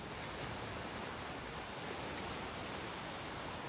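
Black Sea surf washing onto an Odesa beach in May, heard as a steady, unbroken hiss of breaking water at moderate level with no voices over it.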